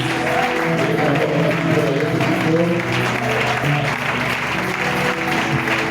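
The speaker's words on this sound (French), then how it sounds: "Alors acclamons fortement pour Jésus-Christ." A church congregation cheering and applauding for Jesus, a dense, loud wash of clapping and voices that holds steady throughout.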